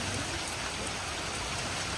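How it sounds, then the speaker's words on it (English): Steady outdoor drizzle of light rain during a passing thunderstorm, a dense continuous patter with no distinct thunder. "Still drizzling. Most of the rain's passed."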